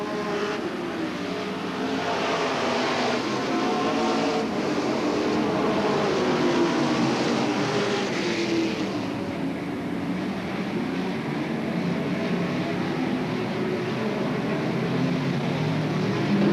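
Race cars circling the oval at Hales Corners Speedway in Wisconsin in 1985, a steady, continuous engine roar that stays loud and fairly distant, with crowd and track ambience blending underneath; the leader's car has begun to smoke.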